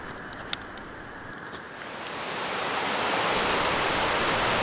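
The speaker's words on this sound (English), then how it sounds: "there's a lot of water in this river" Rushing river water in Yosemite Valley, a steady broadband roar up close that swells louder halfway through and holds strong to the end, with no voices.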